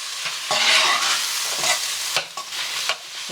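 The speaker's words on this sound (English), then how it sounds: "Okay, stir it." A spoon stirs a stew base of chili powder and salt in a hot pan, scraping and clattering in a few brisk strokes over a close, loud sizzle.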